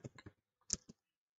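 Keys click on a computer keyboard as a short command is typed: a quick burst of three taps, a pause, then two more sharp clicks, close and faint in a quiet room.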